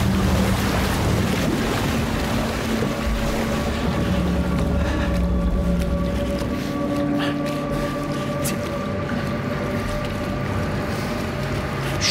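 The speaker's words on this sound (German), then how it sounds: "Oh, noch mehr Wasser." Water sloshing on a drilling rig in Still Wakes the Deep: a loud, continuous rushing and churning wash with low rumble and faint tonal hums, steady throughout and with no talk.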